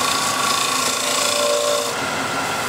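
A woodturning gouge with its flute closed and handle dropped, worked as a shear scraper on a wooden bowl, makes a steady, continuous rasping scrape close by that eases slightly toward the end.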